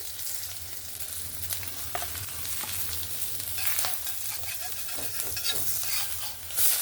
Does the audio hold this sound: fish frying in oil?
yes